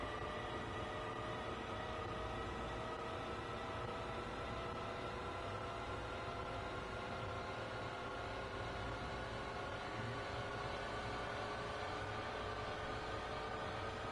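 A Long Island train in Train Sim World 2 rumbles steadily through a tunnel, with a continuous dense roar and a faint rising whine that hold unchanged throughout with no speech.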